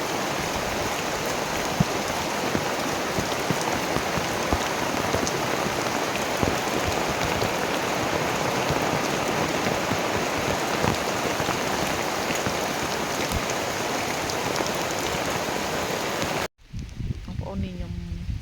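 Steady, heavy rain pours down in a constant dense hiss of drops on surfaces, loud and close for most of the stretch, then cuts off abruptly near the end, leaving a quieter background.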